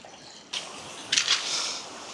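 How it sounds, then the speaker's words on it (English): Seawater surging in over rocks on the Devon coast and flowing down into the sea, a steady rush of water that swells twice into louder gushing surges, close by with no talking. "I love how this water's coming in here as well, look. It's just flowing in there, down into the sea."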